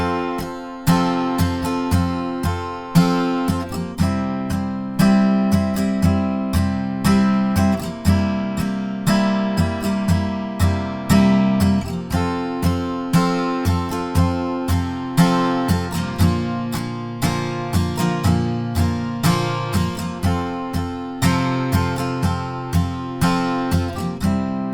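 An acoustic guitar strums the verse chords in an easy, no-capo, no-barre arrangement, with steady rhythmic strumming throughout, loud and close with no talking.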